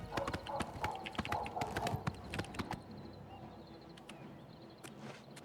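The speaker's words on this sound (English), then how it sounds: "Granted, this horse is fairly quick." A horse gallops in the video game Oblivion Remastered, steady rhythmic hoofbeats clopping close and clear for a few seconds before fading into softer ambient sound.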